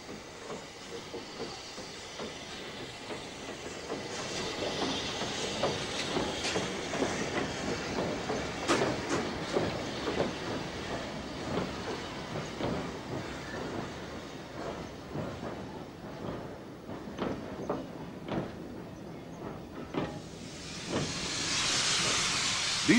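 A very small Great Eastern class J15 steam locomotive in Prussian Blue livery, running on the North Norfolk Railway at a centenary celebration of services to Holt: steady chuffing beats and rail clatter, with a loud burst of steam hiss near the end.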